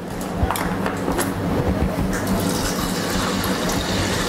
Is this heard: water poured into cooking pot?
yes